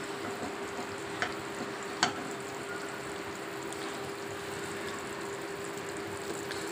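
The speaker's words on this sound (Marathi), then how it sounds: "लाकडी चमचा मी यूज करते, कारण का आता हे स्टेनलेस स्टीलचे भांडे" Soft, cooked mutton in a green-masala curry being stirred with a wooden spoon in a stainless steel pot, a low continuous bubbling hiss with a couple of light spoon knocks.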